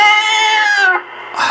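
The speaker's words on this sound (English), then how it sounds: "The cat was outside, jumping at the door" A cat outside a door lets out a loud, drawn-out meow up close, followed by a short pause and the start of another cry.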